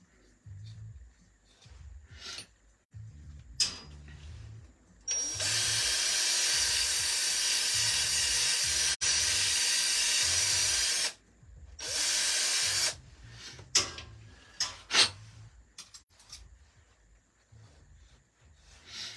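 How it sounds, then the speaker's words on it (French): A power drill turning a reamer whirs loudly in two long bursts with a brief stop between, followed by a shorter run, with quieter handling noises around it. "j'ai un deuxième alésoir que je vais mettre sur ma perceuse"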